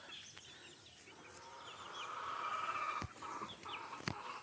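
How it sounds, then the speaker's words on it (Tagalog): Chickens cluck faintly outdoors against a soft background hiss, with a couple of sharp knocks near the end. "Ang daming manok, oh."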